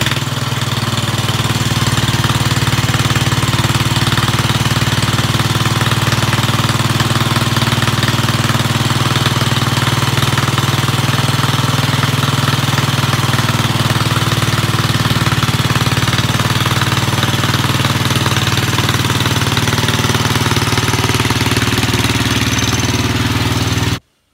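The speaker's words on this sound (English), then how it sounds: "this is going to be a cold start on the Suburban 10" A Chevrolet Suburban that has sat unused for about three weeks starts cold and settles into a loud, steady, rough idle. The low engine rumble carries on unbroken right up to the point where it cuts off.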